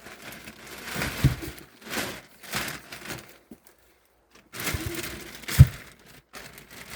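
Plastic sheeting wrapped around a rubber tub buried in the ground for winter dongchimi crinkles and rustles in several bursts, with a pause of near silence in the middle and a couple of sharper cracks.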